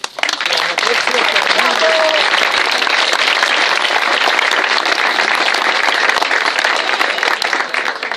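Sustained, dense applause from a crowd at a running and athletics club's spicha party in Gijón, steady and loud for the whole stretch with a voice briefly audible at the start.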